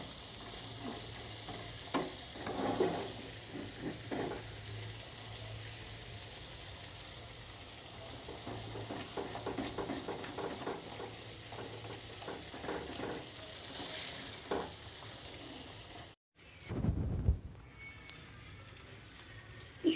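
Tomato chutney sizzles and fries in oil in a pan while a spoon stirs and scrapes through it, a steady close hiss with rhythmic scraping, briefly cut off near the end before a clatter.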